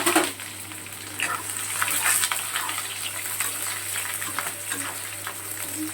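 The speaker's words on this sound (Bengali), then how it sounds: "পেঁয়াজটা একটু ভালো করে ভাজা ভাজা হবে" Three medium onions, finely chopped, fry in a pan with a lively, continuous sizzle and crackle, close and fairly loud, with occasional stirring scrapes and no talking.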